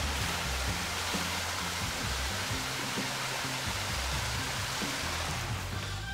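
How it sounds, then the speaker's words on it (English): Waterfall on a river beside an old mill building, a steady broadband rush of falling water that holds at constant loudness throughout, with low rumbling undertones and no voices. "And the waterfall."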